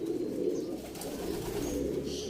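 Breeding pigeons cooing, a low rolling coo repeated continuously, close and moderately loud, with faint higher chirps from other birds near the end.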